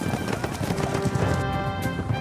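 War horse hooves clip-clop in a steady rhythm beneath a sustained musical bed, fairly loud and close, with no voice over them.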